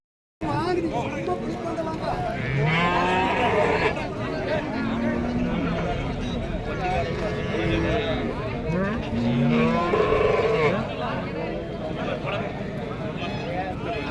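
Cattle moo at Seenapuram cattle market, with several low drawn-out calls rising over a busy crowd murmur and clattering background noise.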